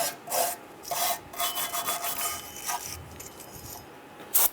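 Someone scrubs rust off the parking brake backing plate of a 1995-2001 Ford Explorer, making quiet, close rasping strokes in short uneven bursts, with a brief sharper scrape at the end.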